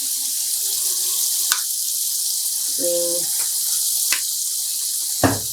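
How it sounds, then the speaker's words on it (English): A tap runs cold water into a rinsing tub for home yarn dyeing, a steady even hiss with a brief spoken word partway through and a few small knocks. "we're going to put some cold water"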